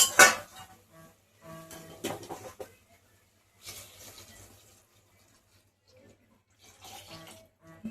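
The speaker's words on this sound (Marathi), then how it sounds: "अजून थोडंसं पाणी ओतून घेते, गरम पाणी करून" Hot water splashes into a pot of chicken curry in short intermittent pours, with light clinks of metal cookware between bursts and quiet gaps.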